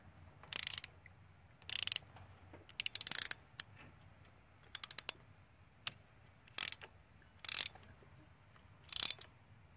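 A socket wrench ratchets on a spark plug of a 2012 Ford Fusion, giving repeated short bursts of crisp, close clicking separated by quiet pauses.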